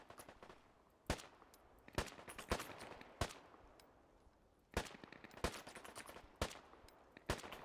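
Single-fire gunshots in the video game Deadside, about ten sharp separate cracks at uneven intervals, fairly quiet in the mix with no talking.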